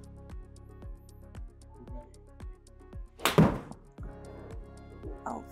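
A 7 iron strikes a golf ball on a practice range, one sharp close impact standing out over a regular ticking pulse in the background.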